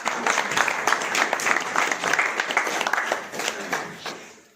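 An audience applauds at a New Year 2021 agents' seminar in a hall, a steady burst of many hands clapping at moderate volume for a few seconds before tapering off at the end.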